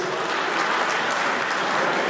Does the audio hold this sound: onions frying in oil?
no